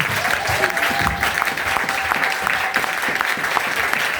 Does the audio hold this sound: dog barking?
no